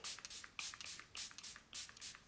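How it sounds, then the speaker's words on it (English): Cream makeup being set with setting spray misted onto the face, a series of about five close, breathy hissing bursts, each lasting a fraction of a second, with short pauses between them. "So we're gonna spray our face."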